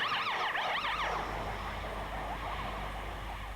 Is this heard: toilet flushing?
no